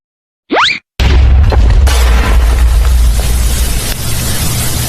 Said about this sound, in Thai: ทันทีทาให้เกิดระเบิดควันเต็มไปหมด